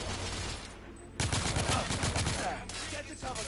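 Video game gunfire in The Order: 1886 aimed at a sniper, a sudden loud burst of rapid shots that cuts in after a quieter lull and then trails off.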